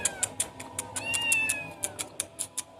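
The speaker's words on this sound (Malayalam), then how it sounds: "ഇവിടുത്തെ പൂച്ച കേട്ടോ." A cat at a hostel meows repeatedly in short, close bursts, with one longer drawn-out meow in the middle and no talk over it.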